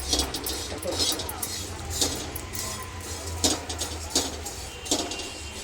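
Dry small prawns (suka jawla) roasting on a hot griddle, with repeated light clinks and scrapes of a utensil over a steady low background hum, fairly close.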